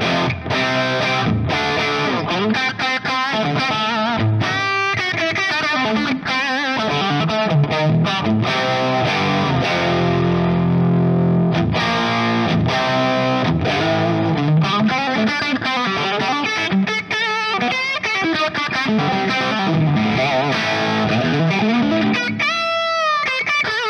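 Gritty, distorted electric guitar through a tube amplifier set on its 8 ohm output tap, played continuously for the whole stretch with strummed chords and single-note runs, loud and close with no talking.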